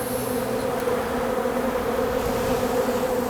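A dense, steady hum of honey bees robbing a package colony at an apiary in September, continuous droning buzz of many insects filling the whole stretch without voices.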